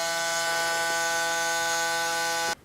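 A Braun Series 9 electric razor cleaning station running, a steady close electric hum with a constant tonal buzz that cuts off abruptly at the end.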